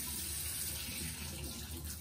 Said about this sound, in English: wash my face again with room temperature water